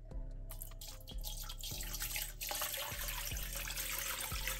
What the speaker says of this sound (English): So I'm going to pour some water in there.